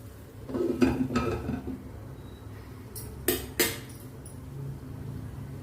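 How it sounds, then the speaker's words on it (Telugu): Metal clinks of a spoon stirring in a pot of boiling tomato rasam, followed by two sharp clanks as the lid is set on, close and fairly loud over a quiet kitchen background. "ఇలా కలదిప్పుకొని మనం మూత పెట్టేసుకోవాలి"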